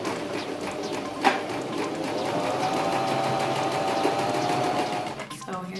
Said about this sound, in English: so I'm gonna start sewing